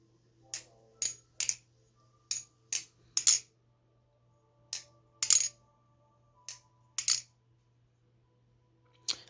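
Kershaw Lucha butterfly knife with aluminum scales flipped, giving a series of crisp metallic clicks and clacks in irregular pairs and clusters, close and quiet over a faint low hum.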